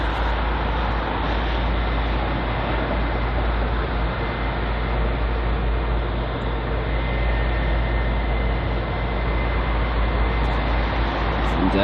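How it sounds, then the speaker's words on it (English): Airliners taxiing at London Heathrow, including an Air India jet and a British Airways 777, giving a continuous broad jet-engine roar with steady low rumble, loud and unbroken throughout. "The queue really now starting to build up with that Air India taxiing, the British Airways 777 taxiing in front of us"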